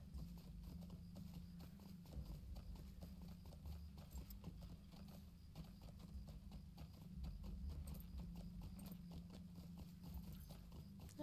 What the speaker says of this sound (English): Look how ragged that poor horse is.